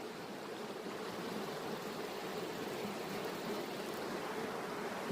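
A river flowing steadily at a hiking and swimming spot in Morelos, giving a continuous, even wash of water noise with no voices over it.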